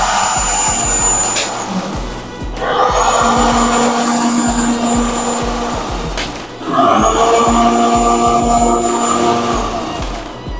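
A row of eight cold spark stage effect machines fire in turn from left to right under remote control, giving loud, steady hissing rushes that swell, briefly drop near the middle and surge again, with no talking.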